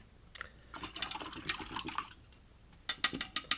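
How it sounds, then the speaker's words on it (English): A paint brush swished and rinsed in a cup of water, with close, faint splashing and clinking in two short bursts and a brief pause between. "I didn't wash the purple out of my brush good enough."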